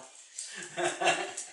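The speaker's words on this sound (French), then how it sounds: "C'est le chien qui fait l'andouille, hein." A dog whimpers and fusses playfully in a quiet indoor space, soft whines and yips rising and falling close by, with a voice speaking faintly over it.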